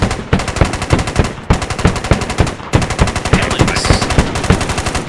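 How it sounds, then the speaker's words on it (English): AK rifle gunfire in a combat video game, loud rapid automatic bursts of evenly spaced shots with brief breaks between strings. "firing away"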